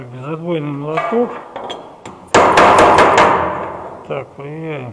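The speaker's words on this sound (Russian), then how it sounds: "Так, безотбойный молоток." A dead-blow hammer strikes seamed metal roofing panels in a quick cluster of several sharp, ringing hits at close range, with a voice humming or talking before and after.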